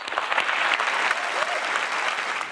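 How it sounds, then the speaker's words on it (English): An audience applauds during a keynote-style speech, a dense, steady wash of clapping hands that holds evenly for a few seconds without any talk. "Let's give them a round of applause."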